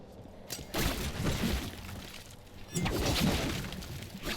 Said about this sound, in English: smashing crates in the background